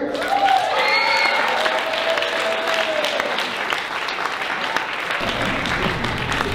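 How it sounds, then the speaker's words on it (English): Audience applause greets a comedian taking the stage at the DBSA Stronger Together mental health conference, a steady, full roomwide clapping that holds throughout and thins slightly near the end. "please give it up for Mr. Chato Stewart."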